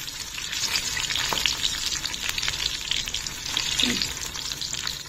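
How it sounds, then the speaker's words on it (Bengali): Eggplant slices fry in a pan with a steady, close crackling sizzle, punctuated by faint clinks of stirring, and no one speaks over it. "আমি করছি আমার জন্য বেগুন ভাজা"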